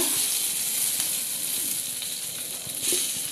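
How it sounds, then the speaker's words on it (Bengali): Two bay leaves sizzle in hot oil in a pan, giving a steady, bright frying hiss with small pops throughout and no talking. "এবার এই তেলের ভেতরে আমি দিয়ে দেব দুটো তেজপাতা"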